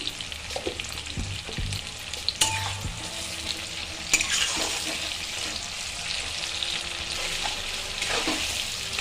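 Tomatoes with a pinch of salt fry in a pan for a Bengali jackfruit and prawn dish, giving a continuous moderate sizzle with occasional stirring scrapes and clinks.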